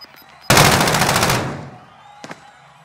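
A sudden loud burst of rapid automatic gunfire in the video game Warzone, about a second long, then fading, followed by a brief faint crack.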